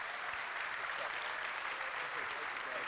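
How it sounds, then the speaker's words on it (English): Steady applause fills a luncheon room as the audience claps for the Texas Tech and Ole Miss head coaches, dense and even, with no talk over it. "How about a round of applause for both head coaches?"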